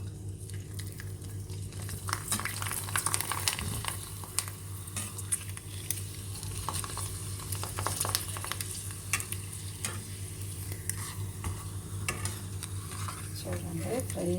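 Vadiyalu, sun-dried fritters, frying in hot oil, a steady bubbling sizzle with occasional spatula and pan clinks, close and moderately loud throughout, no talking.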